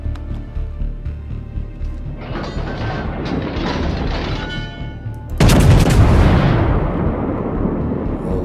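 French cruiser Turenne in World of Warships firing a main-gun salvo: after a stretch of mechanical rumble, one loud, deep booming blast hits and then rolls away into a long, heavy decay.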